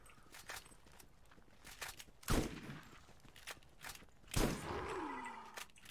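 A shotgun firing in the video game Borderlands, two heavy booming blasts a couple of seconds apart, each with a trailing rumble, amid scattered smaller game sounds.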